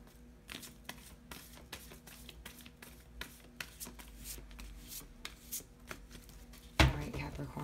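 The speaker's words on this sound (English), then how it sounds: "Just bear with me while I shuffle until I feel it's right." Playing cards are shuffled in quick, soft riffling bursts and taps, close and quiet, ending with a sharper louder handling sound.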